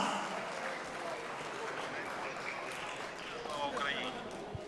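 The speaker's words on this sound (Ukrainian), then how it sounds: "Ці оплески для вас" Audience applause for boxer Oleksandr Usyk at a charity auction, a steady wash of clapping from a crowd across the whole stretch, with voices mixed in underneath.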